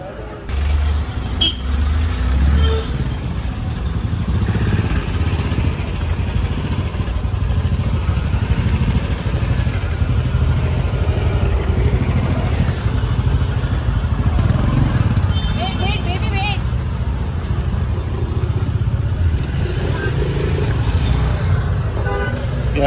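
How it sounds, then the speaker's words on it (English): Motorcycles and other traffic roll past on a village road with no sidewalks, a steady close roar of engines with occasional horn toots throughout, under continuous talk. "I literally have to watch out for motorcycles running me over."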